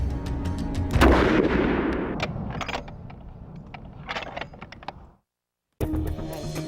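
An H&K MP5 submachine gun fires on an FBI hostage rescue range: a loud opening report followed by a rapid run of sharp shots with a long reverberant tail, a brief silence, then a renewed loud burst of noise.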